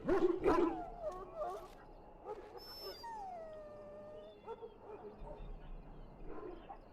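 Dog in Dragon Age Origins whimpering and whining in thin, rising and falling tones, with short yips and a drawn-out high whine in the middle, moderately close and mixed with low background game sound.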